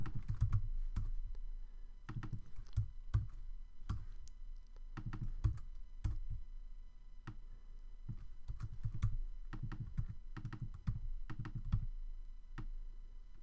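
Rapid clusters of computer keyboard taps and clicks for copy-and-paste shortcuts, close and quiet, coming in irregular bursts with brief gaps over a faint steady hum.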